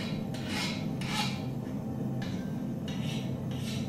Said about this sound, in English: There's nothing quite like a file skating across a freshly hardened knife.